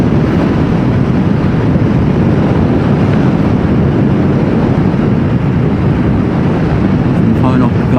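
Motorcycle ride with no upper-body fairing at moderate speed, a steady loud rumble of engine and wind buffeting filling the whole stretch without letup, with some talk mixed in.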